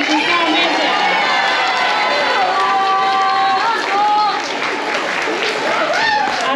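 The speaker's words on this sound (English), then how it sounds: "Sonia deserves an extra round of applause." An audience applauds Sonia after her solo piece at a spring school music showcase, a steady, dense round of clapping filling the room with cheering and excited voices rising over it.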